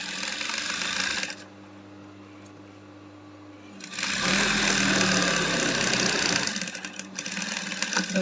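Sewing machine stitching closely along a keyhole corset back with a one-sided zipper foot, running in two bursts of steady mechanical whirring separated by a quieter pause, close and alone.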